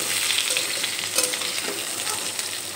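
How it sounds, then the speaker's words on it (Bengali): Potato pieces fry in leftover oil from cooking bhola fish over a medium gas flame, giving a dense, even sizzle close up, with a couple of soft stirring touches. "আলুগুলো আমি লাল লাল করে ভেজে নেব"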